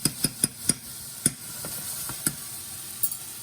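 Shrimp in a sizzling pan are tossed about without a utensil, giving a series of sharp metallic knocks at uneven intervals over a steady frying hiss.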